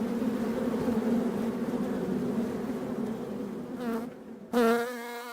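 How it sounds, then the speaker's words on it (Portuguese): A honeybee swarm lifts off together, a dense steady buzzing drone from many wings that fills the space, thinning slightly near the end before one close bee buzzes loudly past. "E o enxame levanta voo,"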